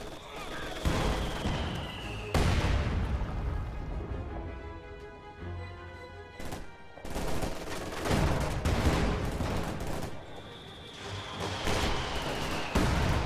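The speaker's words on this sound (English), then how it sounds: "Contact! MG-42!" Heavy gunfire from an MG-42 machine gun in a World War II video game. The bursts come in repeated loud clusters, and booms and other battle noise are mixed in.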